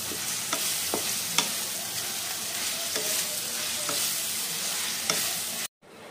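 Sliced medium tomato frying in hot oil, a steady close sizzle with a few sharp stirring clicks, ending abruptly in a short silence.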